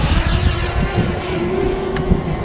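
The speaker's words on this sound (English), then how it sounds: "Right, the drone's back in the air." A camera drone taking off outdoors gives a loud, close, steady motor buzz with a sustained hum and rumbling wind noise throughout.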